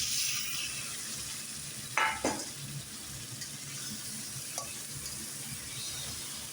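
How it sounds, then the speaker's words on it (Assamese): Chicken pieces dropped into a hot pan, a hiss of sizzling frying with a couple of sharp clattering stirs, steady close sizzle throughout and no talking. "এইবাৰ মই চিকেনখিনি পূৰা ঢালি দিম।"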